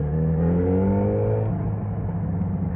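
A Yamaha XJ6 motorcycle engine revs loudly up close, its pitch climbing then settling into a steady rumbling roar.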